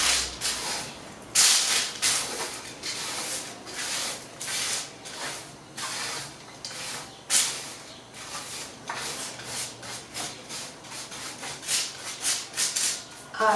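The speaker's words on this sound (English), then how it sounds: "Take this out and then give it a nice stir." Granola is stirred in a hot pan just pulled from the oven, making repeated scraping, rustling strokes in an uneven rhythm, fairly close and moderately loud, with no talking.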